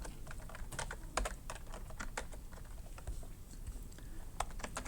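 Close, quiet typing on a computer keyboard, a quick irregular run of distinct key clicks with short pauses between bursts.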